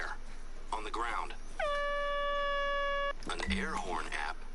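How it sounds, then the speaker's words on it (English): An air horn app blares inside the hunting game The Hunter: Call of the Wild, one long steady tonal blast lasting over a second, set between bursts of talk and game background noise. "An air horn app."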